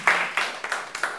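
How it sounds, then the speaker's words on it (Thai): Classmates in a Thai primary school class clapping for a student, five loose, separate claps spaced unevenly over about a second, fairly close. "ปรบมือให้เพื่อนลูก"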